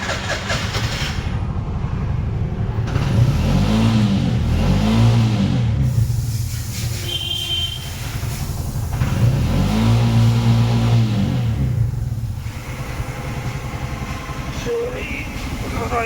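A Bajaj auto rickshaw with a BS6 engine runs at idle and is revved twice, its mid-pitched engine note rising and falling in two swells before settling back to a steady idle, close by, with a voice briefly audible.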